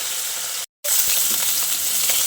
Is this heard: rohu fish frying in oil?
yes